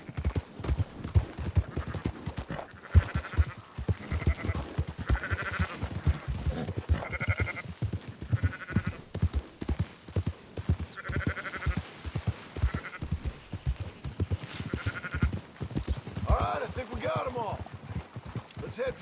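Sheep bleating in the video game Red Dead Redemption 2, short repeated cries over a steady clip-clop of horse hooves while characters talk.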